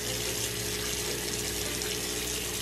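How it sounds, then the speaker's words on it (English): Warm water pours steadily from a tap, a constant close rushing hiss with no breaks or voices. "turn on the water pretty warm"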